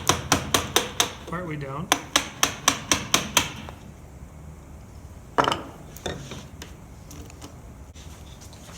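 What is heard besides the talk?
chisel struck with hammer cutting a cross lap joint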